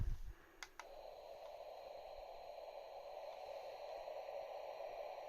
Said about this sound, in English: And then you've got the actual white noise itself.